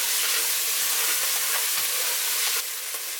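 Fried noodles are stirred in hot oil in a pan, making a loud, continuous sizzle with scraping stir strokes throughout.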